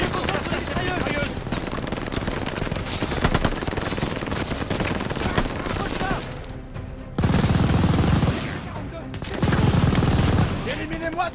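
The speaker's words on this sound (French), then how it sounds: "La mitrailleuse de la tour!" In the Call of Duty Vanguard video game, a tower machine gun fires loud, rapid, continuous bursts, mixed with in-game voices and heavy booming thuds, with dense gunfire filling the whole stretch.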